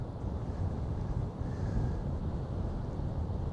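Strong coastal wind battering the microphone on the Irish coast during a 75-mile-an-hour gale, a steady loud rumbling buffet with surf-like roar throughout, no voices.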